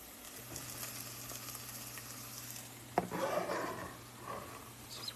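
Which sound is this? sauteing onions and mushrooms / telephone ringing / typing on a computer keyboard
sauteing onions and mushrooms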